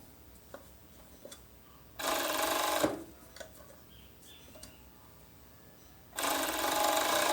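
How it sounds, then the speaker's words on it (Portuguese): A domestic sewing machine runs in two quick bursts, stitching a neckband onto a women's T-shirt neckline, with soft handling and fabric rustle between the runs; close and fairly quiet, no speech. "é só ir esticando essa gola e fazendo a costura"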